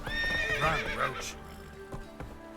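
Roach, a horse in the video game The Witcher 3, lets out a loud, close neigh with a rising and falling whinny, followed by a few scattered hoofbeats as the gallop begins.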